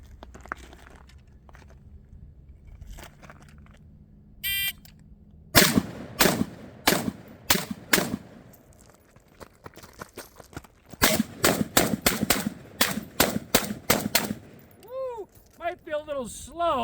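Galil ARM rifle firing a 15-round drill: a fast string of sharp, loud shots in quick bursts, a pause, then a longer rapid cluster, with faint ringing steel or casings afterward.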